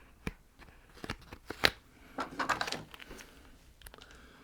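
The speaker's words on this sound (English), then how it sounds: "I'm just going to trim it down." Wide foam tape being trimmed, heard as a series of quiet crisp snips and rustles at close range.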